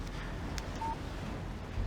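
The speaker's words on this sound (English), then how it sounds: "Text message from Barry." A single short electronic beep from a phone text message alert in the video game Alan Wake sounds once over a steady low background hum, with no talking.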